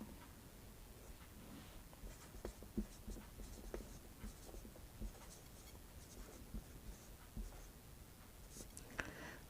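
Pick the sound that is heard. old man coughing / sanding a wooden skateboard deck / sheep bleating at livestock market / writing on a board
writing on a board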